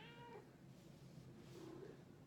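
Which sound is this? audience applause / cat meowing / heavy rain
cat meowing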